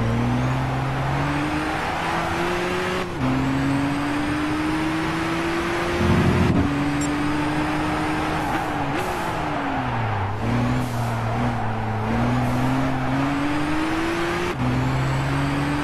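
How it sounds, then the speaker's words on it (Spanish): A Nissan GT-R V-Spec 09 laps Tsukuba circuit, its engine droning loudly and continuously with rising and falling pitch through gear changes and corners, heard from inside the car. "la verdad es que el coche va genial"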